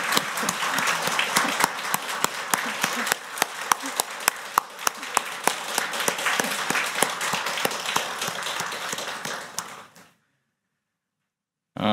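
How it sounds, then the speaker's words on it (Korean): A church congregation at a Sunday worship service breaks into sustained, dense applause for about ten seconds, full and close, then stops abruptly into silence. "박수."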